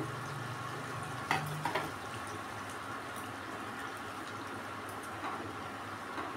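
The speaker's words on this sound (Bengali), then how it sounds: "এবার আমি দিয়ে দেবো এর মধ্যে এই টমেটোটা যেটা পেস্ট করে রেখেছিলাম সেটা দিয়ে দিলাম।" Tomato paste frying in gravy with stuffed pointed gourd and prawns, a dense, steady bubbling sizzle throughout, with a few sharp clinks of a spoon against the pan early on.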